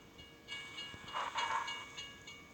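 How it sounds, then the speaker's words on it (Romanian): A train passing a level crossing in the Euro Truck Simulator truck-driving game, a faint rolling rumble with a soft horn-like tone, alone without talk. "Din ce parte vine porcul ăla de tren."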